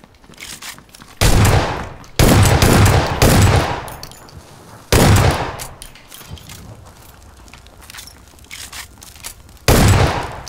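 Automatic gunfire rattles in a PUBG squad match early in the game, four loud close bursts separated by short gaps of quieter background, with no voices over them.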